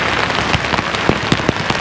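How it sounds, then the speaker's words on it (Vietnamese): Heavy, steady rain falls on the Bảo Lộc mountain pass during days of prolonged downpour, a dense continuous hiss with scattered louder drop impacts close by, no voices. "Đây quý vị thấy trên đèo mưa to, mưa dầm dề mấy ngày nay rồi"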